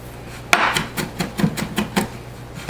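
A kitchen knife slicing and mincing fresh ginger on a cutting board, a series of about nine crisp, evenly spaced chops close up, with no talking.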